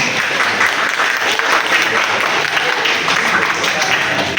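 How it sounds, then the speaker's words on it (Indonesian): A fourth-grade class bursts into loud, sustained applause for a classmate, the dense clapping steady and close throughout. "Tepuk tangan dulu untuk Kak Bila."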